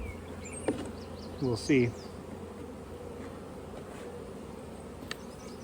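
Honeybees hum steadily around an open colony as frames are inspected, a soft continuous drone under brief nearby speech, with a few louder passes close by.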